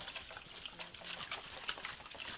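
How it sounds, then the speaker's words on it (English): Soft water sprinkled over newly seeded herb seed trays indoors, a steady faint hiss and patter of spray continuing alone for a couple of seconds. "I like to give them a little shot of water before I cover them."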